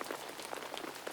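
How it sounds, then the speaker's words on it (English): Light drizzle falls in a soft, steady patter of scattered drops, quiet and close, with no voices. "The rain became lighter and lighter, until it was no more than a drizzle."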